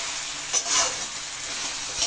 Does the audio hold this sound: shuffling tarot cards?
no